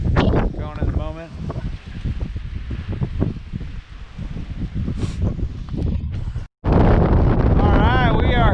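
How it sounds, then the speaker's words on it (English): Severe, gusty wind buffets the microphone on a rugged mountain trail, roaring in loud uneven bursts with a brief dropout, while people talk through it. "We got some pretty severe winds going at the moment."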